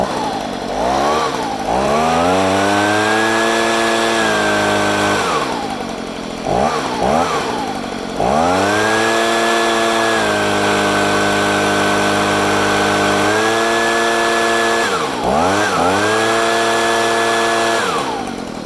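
A Stihl BG55C/BG65C leaf blower's two-stroke engine runs loud and close, revving repeatedly from idle to a high sustained whine and dropping back, with several throttle blips.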